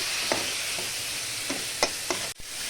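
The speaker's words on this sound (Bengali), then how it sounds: "একটুখানি নাড়াচাড়া করে এর মধ্যে দিয়ে দেব নুন, আবার একটুখানি মিশিয়ে নিই" Raw mango curry being stirred in a pot with salt added, a steady sizzling hiss under a few soft scraping strokes of the spoon, close and moderately loud with no voices.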